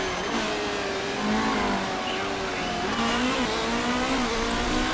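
Race cars in the Motorsport Manager video game set off at the race start, several engines droning and revving together in a loud, steady roar, with rising pitch as they accelerate away.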